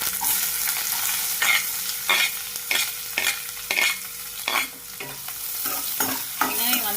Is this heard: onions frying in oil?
yes